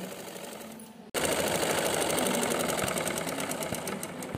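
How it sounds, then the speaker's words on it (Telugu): A sewing machine stitching a straight seam on an Anarkali frock starts abruptly after a brief quiet moment, then runs in a steady, rapid mechanical whir with fast needle ticking, close and continuous. "ఈ కోసం ఫస్ట్ క్రింద వైపున స్ట్రైట్గా కుట్టేయాలి."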